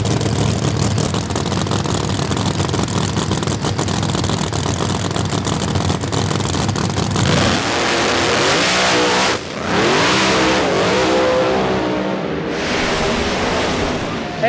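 Drag racing cars at Famoso Dragstrip roar at full throttle on a scorching day, a dense, loud engine blast that shifts abruptly midway into rising, sweeping revs as they run down the track, with faint voices mixed in.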